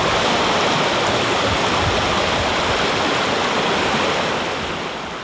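The flooded Middle River rages past in a loud, dense, unbroken roar of rushing water that holds steady and fades slightly at the very end.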